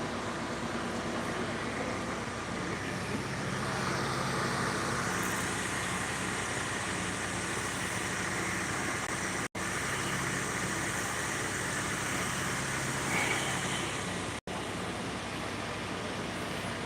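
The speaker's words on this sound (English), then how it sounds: "Now they've got the engines going" Go-kart engines idle and run faintly at a short race track in Hanceville, Alabama, a low steady motor drone with distant ambient noise and a little background talk.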